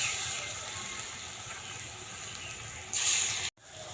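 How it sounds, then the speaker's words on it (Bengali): Banana fritters fry in hot oil with a soft, continuous sizzle and crackle, followed by a brief louder hiss near the end before a sudden dropout. "সেই জন্য কলার বড়া ভেজে নিচ্ছি।"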